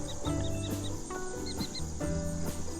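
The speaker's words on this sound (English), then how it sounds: "Falcon," A falcon call: short, high chirps in two quick bursts of three or four, over looping background music.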